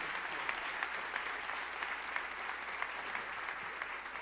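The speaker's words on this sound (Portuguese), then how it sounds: "Aplauda o Senhor por ele." A church congregation applauding, a dense, steady clapping from many hands that lasts the whole stretch at moderate loudness with no voices over it.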